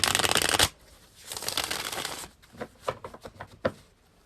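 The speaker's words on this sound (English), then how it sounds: "So I'm to shuffle 5 times." Tarot cards being shuffled by hand, a dense riffling burst followed by a run of softer, separate flicks and taps, close and quiet with no talking.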